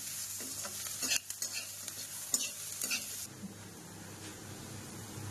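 Onions fry in a kadai until brown for a Bengali mutton dish, a soft sizzle under several loud scraping stirs of a spatula against the pan in the first few seconds, then a quieter steady fry.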